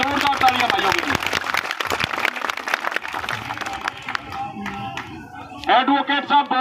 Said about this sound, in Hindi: जोरदार तालियां भाइयों के लिए।